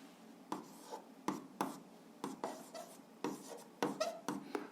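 A pen scratches out short answers by hand on paper, about eight quick separate strokes in a quiet room, close and soft.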